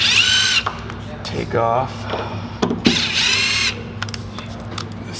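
Cordless drill driving a number 2 Robertson bit to back out door hinge screws, giving short whining bursts of the motor between pauses, close up, with someone talking over and between them.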